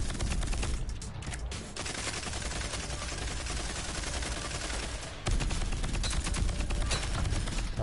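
Rapid automatic gunfire in the shooter game Rogue Company, a dense continuous stream of shots with a brief break near the start and a louder burst late on, steady and close throughout.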